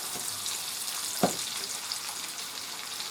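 Cabbage and sausage in a skillet, a faint, steady frying hiss with one brief clack of a utensil stirring partway through, quiet and with no one talking.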